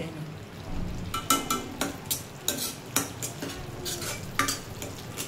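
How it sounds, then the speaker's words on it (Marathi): Masala of tomato, onion, ginger, garlic and cashews fries in oil for a chickpea curry, with a spoon stirring and scraping a kadhai in a quick uneven rhythm over a continuous sizzle. "तेल सुटेपर्यंत मसाला फ्राय करून घेते"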